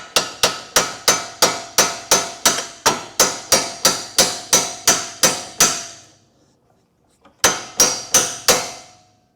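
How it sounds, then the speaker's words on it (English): A hammer strikes metal on a Gen 2 Prius suspension part during lift kit installation, sharp ringing blows in a fast, even rhythm. About fifteen hits come in a row, then a brief pause, then four more, loud and close. "take your hammer"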